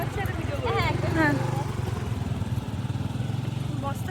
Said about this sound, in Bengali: এই রাস্তায় বাইক স্পিডে চালাচ্ছে আর ভিডিও করছে।